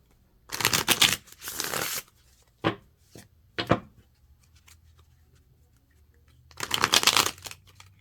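Tarot-style cards are shuffled by hand in three bursts, riffling rasps and flutters separated by a few soft taps and a long quiet gap, close and alone.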